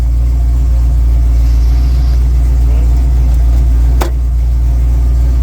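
A 1969-77 Ford Maverick engine idles loud and steady at close range, with one sharp clunk partway through as the gear selector moves.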